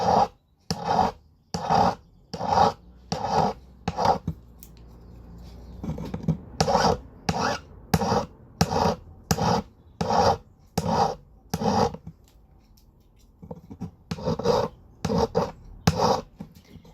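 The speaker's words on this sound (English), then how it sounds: "it's push and lift with the files because they only cut on the forward motion" A hand file rasps rhythmically across a pierced metal shape held in a bench peg, each forward stroke a loud gritty scrape followed by a short lift, repeated steadily in close succession.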